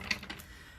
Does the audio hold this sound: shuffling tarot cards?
yes